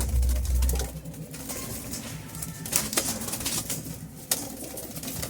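Rampuri pigeons kept for sale coo and stir close by, soft low cooing calls coming through a busy background of rustling and faint wing movement over several seconds.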